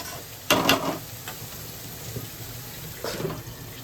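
Spice paste fries in a pan for a tangra fish curry, a soft close sizzle swelling in two brief bursts of stirring amid a low steady hiss, with no one talking.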